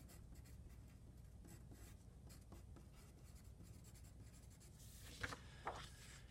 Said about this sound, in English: we need to write our name on our blue piece of paper and our teacher's name